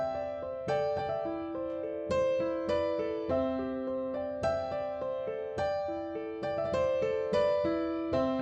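Solo piano plays the opening half of the intro to a song, a steady run of sustained chords and melody notes struck in a slow, even rhythm, close and clear with no voices.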